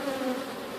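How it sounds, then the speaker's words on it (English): Honey bees in a crowded backyard hive drone in a thick, continuous buzz, close and even in loudness for a brief moment with no voices. "Look at these bees."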